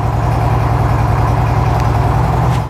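A motorcycle engine idles after an oil change with a loud, steady, even putter that runs close and unbroken until it cuts off at the very end.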